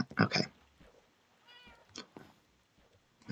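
A Minecraft cat meows a few times, with a loud meow near the start and softer, shorter mews following, clear against quiet background.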